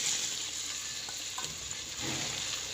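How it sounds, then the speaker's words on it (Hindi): Okra sizzles steadily as it fries in ghee in a wok for bhindi masala, a dense, continuous crackle with a slight swell near the end and no talking. "भिंडी को हल्का सा फ्राई करने से इसकी लेस खत्म हो जाएगी"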